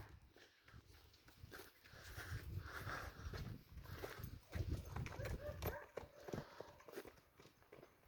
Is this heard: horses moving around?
yes